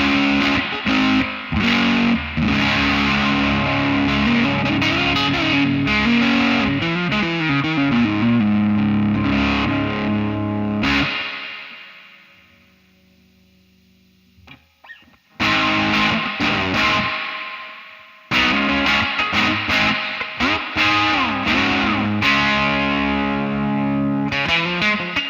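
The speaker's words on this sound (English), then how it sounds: "You got that thin kind of bridge sound, not exactly a single coily" Heavily distorted electric guitar with an aluminum neck, played on the bridge pickup, chugs and rings out in long sections, with a sudden quiet gap midway before the crunchy, bright riffing returns.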